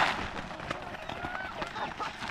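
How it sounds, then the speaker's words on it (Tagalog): Domestic chickens on a family farm cluck and squawk in a noisy, busy chorus, several birds calling over one another at close range. "Dami nating manok."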